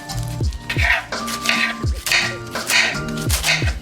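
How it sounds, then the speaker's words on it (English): A knife chops drumhead cabbage on a board for a salad in a congee meal prep, giving a steady run of close, crisp knocks about twice a second over soft background music. "I'm just gonna chop this drumhead cabbage"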